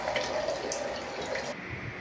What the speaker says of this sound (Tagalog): lagay akong tubig